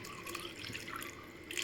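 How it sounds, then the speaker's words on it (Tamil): Water is poured into a cooking pot to boil egg pasta, making a soft, steady splashing trickle with faint dripping. It is quiet, close and free of talk. "நமக்கு தேவையான அளவு தண்ணி சேர்த்துக்கலாம்."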